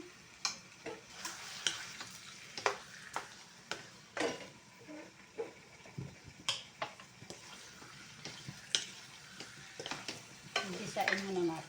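Chicken kaldereta being stirred in a frying pan, a steady sizzle under repeated scraping and clacking strokes of the utensil against the pan, close and fairly loud, with no talk.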